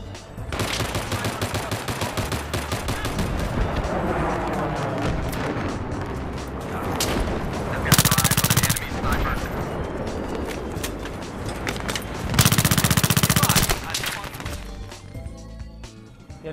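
Sustained automatic gunfire and explosions from the first-person shooter Battlefield 3, dense and continuous with two louder bursts of heavy blasts, no talk over it.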